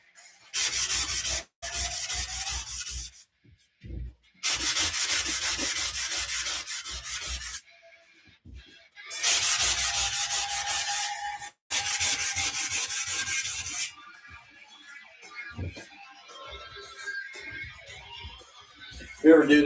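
Drywall being sanded by hand with a 3M sanding sponge, steady scratchy rubbing strokes in four long bursts separated by short pauses, close and fairly loud, with faint incidental noise in the quieter gaps.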